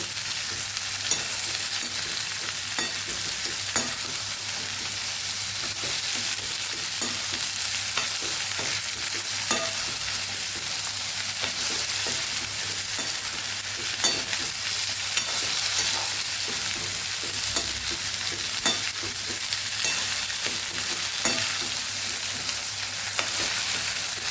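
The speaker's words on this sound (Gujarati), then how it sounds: "તો અહીંયા આપણા ભીંડા પણ સરસ મિક્સ કરી અને સાતડી લીધા છે" Okra stir-fried in a pan, Kathiyawadi style, gives a constant loud sizzle broken by repeated scraping stirs throughout, with no voices.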